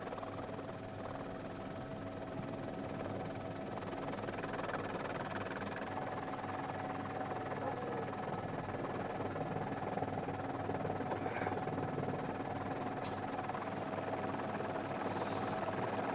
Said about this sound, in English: I think we're getting towards the end of the range of the helicopter as it follows the boats out.